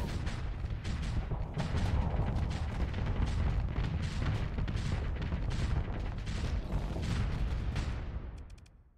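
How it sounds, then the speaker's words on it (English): Dense barrage of missile and bomb impacts from space combat in the game Starsector, continuous rumbling booms and rapid bursts like heavy gunfire, loud and sustained before fading out at the end. "That's a lot of missiles and bombs."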